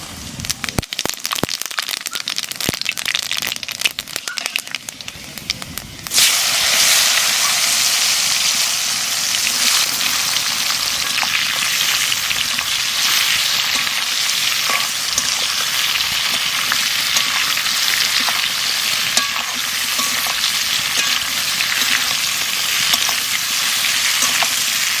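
Panch phoron spices hit hot oil for a sour-sweet mango pickle, with scattered crackles that give way to a loud, dense, continuous sizzle that fills the space up close.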